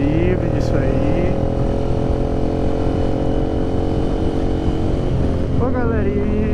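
A Honda CBX Twister motorcycle fitted with a RONCAR exhaust rumbles loud and close while riding, with a steady droning engine note that rises in pitch near the end as it revs.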